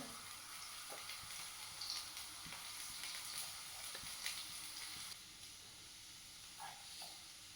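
Onions sizzle quietly in oil, a soft steady crackle with occasional faint clinks, fairly distant and low in volume.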